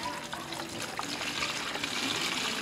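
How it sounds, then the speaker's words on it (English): Water pours and splashes steadily into a container to brine a turkey, a close continuous gushing trickle with no talk. "So now we're going to add our water."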